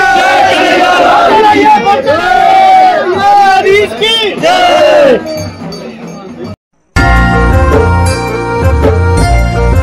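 Dense crowd at a huge fair in Kausani, Uttarakhand: loud, close hubbub of many voices with shouts and singing-like calls, briefly dropping out before a rough, noisy roar of crowd babble resumes.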